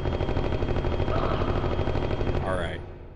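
Rapid automatic fire from a machine pistol in the PS1 game Martian Gothic: Unification, a dense continuous stream of shots with a whining effect near the end, loud and steady before tapering off.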